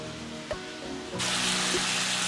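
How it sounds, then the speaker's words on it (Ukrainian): Mushrooms frying in a pan, starting as a quiet low sizzle with a couple of small taps and then bursting into a loud, steady crackling hiss as they hit the hot oil. "Гриби у мене жаряться."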